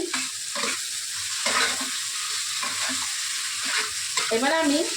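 Masala for Bengali doi katla fries in a pan, a sizzling hiss broken by regular scraping strokes of a spatula stirring, close and alone without voices.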